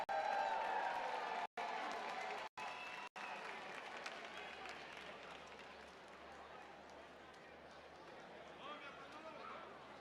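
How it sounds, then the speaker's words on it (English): At Canterbury Park racetrack, the crowd applauds a winning jockey with faint, distant clapping that swells then gradually fades, with brief dropouts early on and voices murmuring beneath. "A round of applause for Manny Americano."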